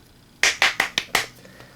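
Five sharp hand claps in a steady, slightly quickening rhythm, close and crisp, followed by quiet.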